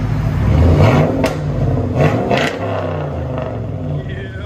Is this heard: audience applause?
no